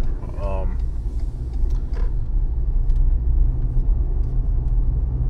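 Steady low road rumble and engine hum of a car in motion, heard from inside the cabin on a drive to the store, continuous and fairly loud throughout with a brief faint voice-like sound early on.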